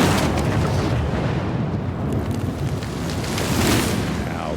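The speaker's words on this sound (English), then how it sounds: "Now that is how you shape an explosion." An explosion in the video game Evil West produces a loud, sustained, roaring blast with crackling debris. The rumble fills the whole stretch without letting up.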